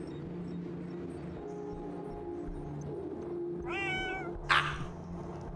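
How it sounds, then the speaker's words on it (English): A cat meows a couple of times over a crackly in-game radio channel in a space video game, a clear wavering mew followed by a short burst of static over a low humming background. "Who let this cat on here?"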